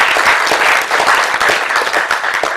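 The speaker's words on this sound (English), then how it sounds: "we must give Nirlep a big round of applause for this remarkable achievement" Steady, full applause from a large audience at an entrepreneurship event, dense and close, sustained throughout with no break.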